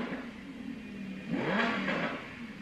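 A car engine revs briefly in the middle, rising and falling in pitch over a low, steady background hum, fairly faint and distant.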